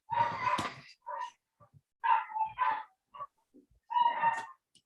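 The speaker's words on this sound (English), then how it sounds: "I don't know if you can hear my dogs" Several dogs bark in short, sharp bursts close by indoors, spaced with brief silences between yaps.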